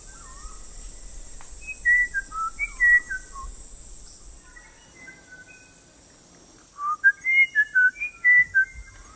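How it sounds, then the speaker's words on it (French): Song of a Wirapuru bird in the Amazon rainforest: two bursts of clear, warbling whistled phrases, each about two seconds long. They ring out near and distinct over a steady high insect drone. "Soudain, on distingue le chant d'un Wirapuru."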